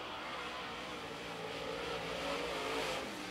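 A late model race car on a qualifying run at Carolina Speedway, its engine a continuous droning roar at a distance that swells slightly toward the end, heard alone without talk.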